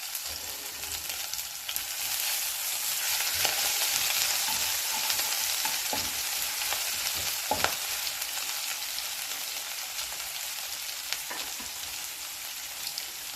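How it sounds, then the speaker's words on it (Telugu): Grated garlic and ginger fry in a pan, giving a steady bright sizzle throughout with scattered sharp clicks of stirring, close up and without any voices. "వేసేసి బాగా ఫ్రై చేసుకోవాలి."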